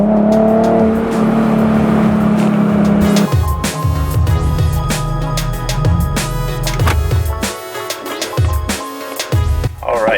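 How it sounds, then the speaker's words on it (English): Wide-body Nissan GT-R Nismo exhaust while driving at night: a steady loud engine drone, then throttle blips and shifts with rising and falling revs close to the microphone, all without talk. "And how good does a Nismo sound at night?"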